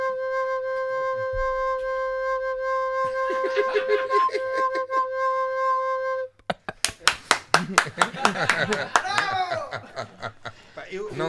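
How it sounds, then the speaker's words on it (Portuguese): An audience claps during a live Portuguese storytelling show, sharp individual hand claps building into a burst of applause after a stretch of sustained musical tones and talk, with laughter mixed in. "Palmas para o Manu, vamos embora."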